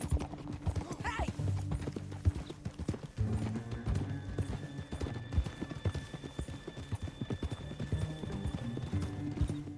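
Steady clip-clop of horse hooves on a canyon trail in Red Dead Redemption 2, loud and continuous beneath a game music bed, with an occasional whinny.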